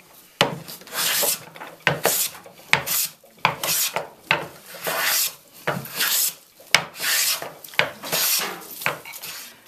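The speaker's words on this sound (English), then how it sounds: "Now I've planed off the face of this little board." A hand plane is pushed in repeated strokes across a small, crooked wooden board, each pass making a rough rasping shave in a steady, even rhythm, close up with no talk.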